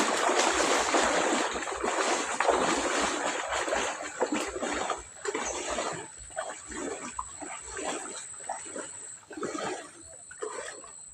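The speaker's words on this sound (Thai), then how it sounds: "ลุยน้ำออกไปเนาะ" Someone wading through floodwater while going out to catch crickets, with steady, rhythmic splashing and sloshing close by and no talking.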